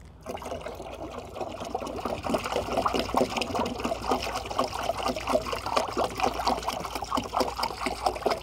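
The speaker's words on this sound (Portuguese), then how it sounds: "Vou adicionar um pouco mais de água." Water poured onto activated charcoal mixed with humate, a steady close trickle and splash running continuously without talk.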